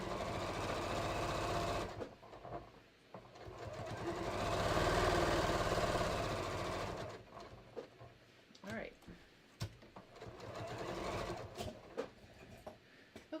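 A sewing machine runs in a steady mechanical whir while stitching a seam on a pocket for a pair of shorts, then stops, and a person talks over the quieter handling afterward.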